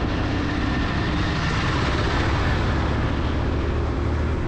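A loud, steady road roar with heavy wind and engine drone fills the whole stretch as a truck is overtaken on a motorbike ride, with no pauses or distinct events.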